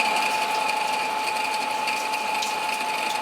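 A machine steadily cuts metal for a heavy welding table on threaded rod at 1,000 RPM, giving a continuous close mechanical whir with a sustained high tonal whine and faint ratcheting texture throughout, no talk.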